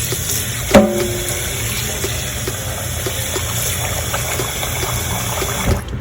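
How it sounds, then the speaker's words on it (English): Cold water pours steadily onto potato flour in a bowl, a continuous close rushing trickle with one brief knock near the start. "Now we are going to add cold water."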